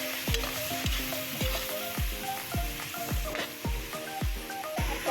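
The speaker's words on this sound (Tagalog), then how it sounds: "Maaari na natin ilagay ang ating mga gulay na beans at carrots" Beans and carrots stir-fry in a hot pan for pork pancit bihon, with steady sizzling under regular, rhythmic scrapes and clanks of the spatula, close and moderately loud, with no talking.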